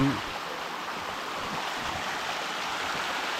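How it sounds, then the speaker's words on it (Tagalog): A small farm creek flows through a wooded stretch in a steady, even rush of water, moderately close and continuous, with no voices over it. "ilog natin dito. Sapa."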